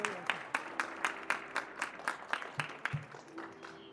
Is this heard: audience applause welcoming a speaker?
yes